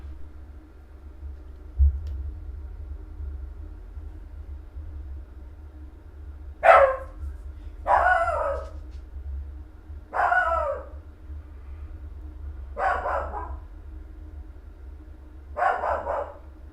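A dog barks five times at irregular intervals, fairly close and loud, at crews collecting roadside debris, over a low steady rumble.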